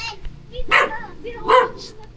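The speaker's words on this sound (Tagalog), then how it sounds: "May mga bagong aso oh." A few dogs bark in short sharp bursts, two loud barks about a second apart with yips between, close by, while people talk and laugh nearby.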